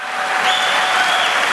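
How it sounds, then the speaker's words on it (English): A burst of enthusiastic audience applause at an Alcoholics Anonymous convention, loud and sustained, with a faint whistle-like tone riding over the clapping. "See, they're applauding flames."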